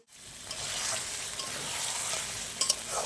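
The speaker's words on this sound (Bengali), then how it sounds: "এবার সব একসাথে ভালো করে আর একটু কষিয়ে নেব" Cashew paste and chicken masala stir-fry for a curd chicken dish, a dense, close sizzle with a few light scraping strokes and brief clinks near the end.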